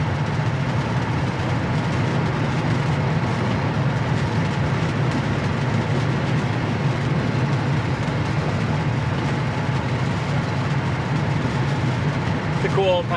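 A 1966 Chevrolet Impala convertible, warmed up and cruising around 65 mph, gives a steady, continuous engine and road drone that holds evenly throughout with no breaks.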